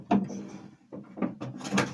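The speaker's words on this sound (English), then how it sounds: "Opening up drawers and things here" Guest-room drawers slide open and shut in a few quick, close scrapes and knocks, separated by short pauses.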